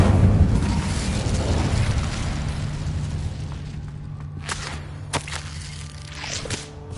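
A fire spell is cast in the video game Hogwarts Legacy, with a loud whooshing burst that fades into a rumbling roar, then a few sharp cracks and snaps near the end.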